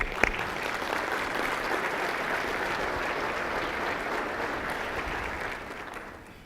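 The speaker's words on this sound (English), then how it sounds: "I think that deserves a round of applause" An audience at a city's 2018 State of the City address bursts into steady, sustained applause, a dense, even clapping that holds for several seconds before tapering off at the end.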